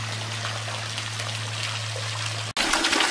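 A small forest waterfall splashes and trickles steadily into a little pond, a continuous close wash of water with a low hum under it, briefly cut off near the end before resuming.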